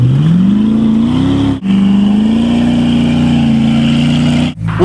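A General Motors 5.7-litre V8 engine revs loudly and steadily, its pitch climbing then holding high, with two brief dips as the throttle lifts.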